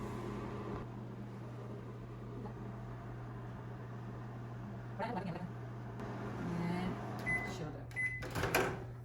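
A microwave oven heating a milk mixture for khoya gives off a steady low electrical hum, then clicks and small clattering knocks close by near the end.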